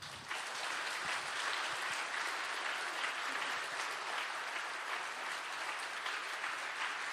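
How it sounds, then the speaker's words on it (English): A large conference audience claps steadily and loudly at an education summit, a dense, even wall of applause that carries on without pause for several seconds with no talking over it. "Can we please clap like we mean it?"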